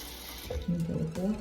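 Tap water running into a basin while the water for washing makeup brushes is changed, a brief close hiss with a bubbly, splashing tone underneath.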